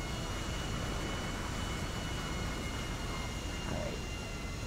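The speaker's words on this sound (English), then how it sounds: "try to land the plane with no wheels" A plane in GTA 5 comes in to land with no wheels, a loud, steady engine roar with broadband rushing noise that holds constant throughout, no voices.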